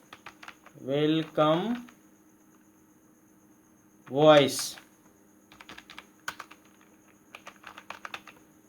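Keys clatter in quick, light, close bursts as someone types a file name on a computer keyboard, following two short stretches of someone talking over a faint steady hum.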